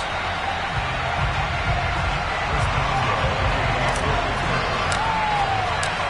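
A sellout stadium crowd roars continuously for a Falcons versus Steelers NFL game in an EA Sports video game, with a dense, loud, unbroken wash of cheering and a few faint whistles over it.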